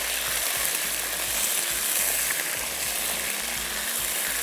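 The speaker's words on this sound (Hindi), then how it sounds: "चिकन डाल के आपने अच्छे से कर लेना है इसको फ्राई।" Chicken fries in a hot pan for Mongolian chicken pasta with a dense, continuous sizzle and crackle, heard close and loud throughout, with faint stirring scrapes and no talk.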